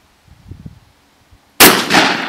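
A rifle fires once at a small green can outdoors in northern Ontario, a single sharp, loud blast that rings and decays after a few faint soft sounds.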